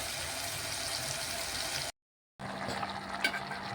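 Meat with ginger garlic paste sizzles and fries in a pan, a steady close crackling hiss that breaks off briefly and resumes with a few louder pops.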